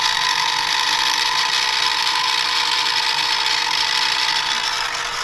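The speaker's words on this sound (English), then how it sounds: "here I am milling" A milling machine cuts a welded-up part from an OMARV TSR 160 flail mower, making a loud, continuous high-pitched whine and grinding chatter up close that holds steady throughout with no talk.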